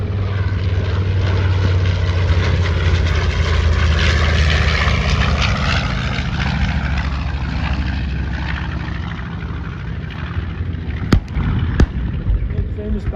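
A propeller warbird sweeps past at an airshow at Dover Air Force Base, its engine drone loud and rising then fading as it crosses, with a few sharp pops near the end and an announcer talking.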